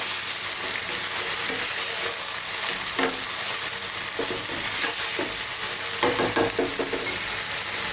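Chopped onions sizzle steadily in a hot pan for a lamb karahi curry on the bone. A constant close frying hiss runs throughout, with occasional stirring scrapes and soft pops.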